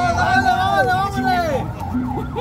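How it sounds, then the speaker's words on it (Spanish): An ambulance siren wails loudly nearby, its rising and falling tone carrying for a couple of seconds while a person shouts over it. "¡Ey! ¡Ambulancia!"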